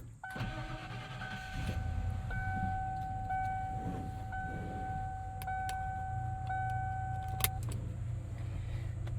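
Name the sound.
truck engine being started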